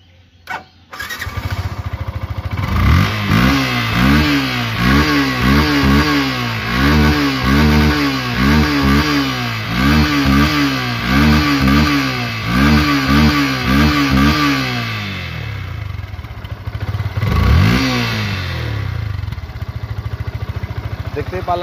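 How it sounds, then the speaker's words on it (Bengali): A second-hand Yamaha Fezar 150cc motorcycle with about 8,251 km on it idles, then is revved in a quick run of repeated throttle blips, followed by a pause and one more rev. It is loud and close. "বাইকটি দেখাবে এখন সাউন্ড কোয়ালিটি এবং পারফরম্যান্স"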